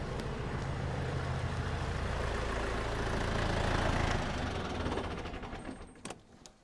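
A steady tractor engine rumble runs loud and even, then winds down and fades out as it is shut off near the end, leaving a couple of small clicks.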